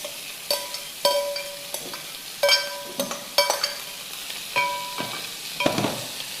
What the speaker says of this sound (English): then I'm going to add in my ginger and my garlic and also the carrots